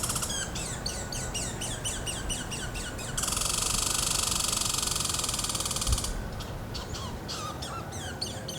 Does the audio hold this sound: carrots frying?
no